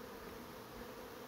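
Honey bees crowding back into the hive entrance, a steady, dense buzzing hum of many insects close by, faint overall and with no voices.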